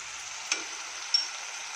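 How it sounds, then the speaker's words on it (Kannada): Tomatoes with crushed cinnamon and cloves fry in a pan, giving a steady soft sizzle throughout, with two faint clicks partway through. "ಟೊಮೊಟೊ ನಾಲ್ಕು ಕಟ್ ಮಾಡ್ಕೊಂಡಿದ್ದೀನಿ ಇದೆಲ್ಲ ಸ್ವಲ್ಪ ಫ್ರೈ ಆಗಲಿ"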